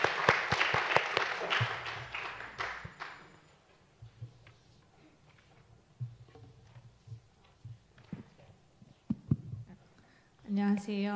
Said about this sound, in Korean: 우리 뜨거운 박수로 격려하면서 환영할 수 있도록 하겠습니다.